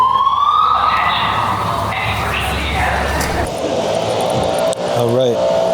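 An emergency vehicle siren wails loud and continuous at a podcasting expo, its pitch sweeping as it blares over a busy crowd backdrop.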